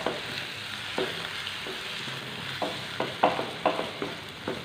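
Egg and onion scrambled in a pan for a wheat flour and egg snack sizzle steadily, broken by repeated scraping stirs that grow louder and sharper toward the end.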